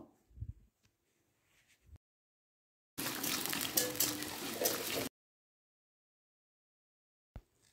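Chopped onions fry in hot oil with bay leaf, cinnamon, cardamom and cloves, giving a dense, even sizzle that lasts about two seconds between stretches of near silence.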